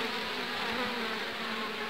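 Honeybees at an opened hive, where they are stripping wax from a queen cell, make a dense, continuous buzzing hum, loud and close, with no voices.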